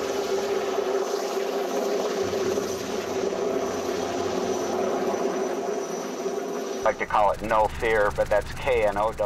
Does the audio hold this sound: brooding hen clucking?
no